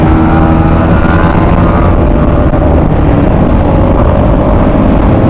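A Yamaha MT-15 motorcycle runs at full power on a highway, its engine a loud, constant, close roar with no pause, alongside wind rush during a wheelie ride.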